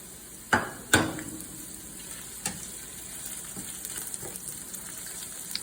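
Sliced sweet onions go into a hot pan with two sharp clatters, then settle into a steady, low sizzle of frying.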